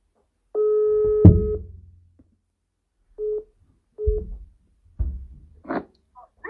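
Telephone call connecting tones: a steady mid-pitched tone of about a second, then shorter tone beeps at intervals, with some low handling bumps, heard alone.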